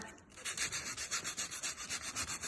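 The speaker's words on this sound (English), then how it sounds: "I just got a little piece of sandpaper. Go the same way as the wood is. And give it a bit of a scrub." A small piece of sandpaper scrubs a wooden board along the grain in quick, regular back-and-forth strokes, each a close, raspy swish in an even rhythm.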